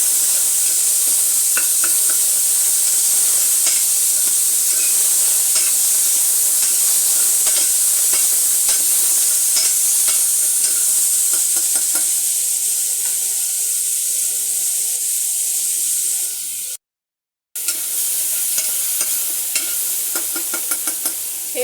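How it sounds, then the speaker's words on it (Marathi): Finely chopped tomato sautéed in hot oil with curry leaves in a pan for dal khichdi, a loud continuous close sizzle and hiss with faint stirring clinks, cut by a brief silent gap near the end. "टाकणार आहोत बारीक चिरलेला एक मोठा टोमॅटो त्यालाही आपण चांगलं परतून घेऊया"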